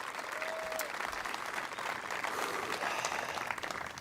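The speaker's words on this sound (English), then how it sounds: "One more round of applause." Audience applause at a junior-senior high school graduation ceremony, a sustained wash of many hands clapping, fairly distant and even, with a few faint voices and a brief whistle-like tone over it.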